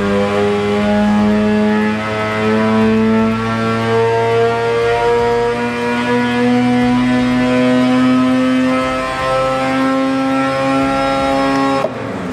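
An Arctic Cat Catalyst snowmobile's 600 engine with a single-pipe exhaust runs on a dyno, a loud, steady, buzzing drone held for about twelve seconds with its pitch wavering slightly before cutting off abruptly.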